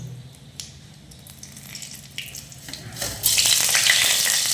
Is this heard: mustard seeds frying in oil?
yes